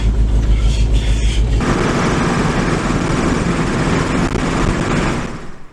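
A 1970 Ford F100 pickup pulls out onto the road, its engine a steady, loud low rumble with broadband road and wind noise that holds throughout and fades slightly at the end.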